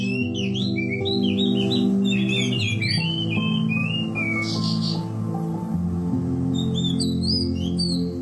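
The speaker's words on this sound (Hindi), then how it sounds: "जिस चिड़िया को यहाँ लोग कुरुवी यानी गौरैया मान रहे हैं, दरअसल वो ओरिएंटल मैगपाई रॉबिन प्रजाति की चिड़िया है" An oriental magpie robin sings from nearby in a village, a run of loud, quick varied whistles and chirps that pauses mid-clip and returns, over a steady low background drone.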